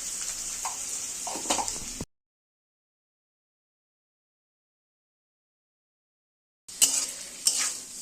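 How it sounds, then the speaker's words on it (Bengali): Dried fish (shutki) frying in a pan for bhorta, a steady sizzle with stirring scrapes heard close for about two seconds, then silence, and then the sizzling and stirring return near the end. "এটা অল্প আছে ভালো করে নরম করে ভাজতে হবে"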